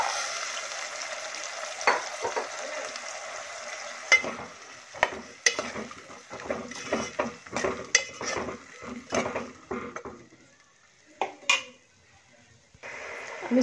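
Green peas being stirred into frying spices in a pan for matar pulao, with repeated scraping and clinking of a spoon against the pot over a soft sizzle, close and fairly quiet, pausing near the end.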